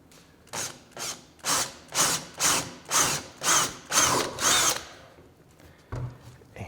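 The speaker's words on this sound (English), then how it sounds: "we're just going to drill a hole" A drill grinding through wood for a wooden scale-model caboose, in about nine rhythmic pulses of rough, abrasive whirring, followed by quiet and a low thump at the end.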